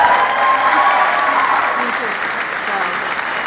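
Sustained audience applause fills a school 8th grade awards ceremony, a dense, even wash of clapping from a large crowd that holds steady throughout, with some voices mixed in.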